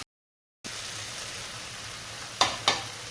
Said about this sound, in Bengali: মশলাটা একটু ভাজা ভাজা হয়ে গেছে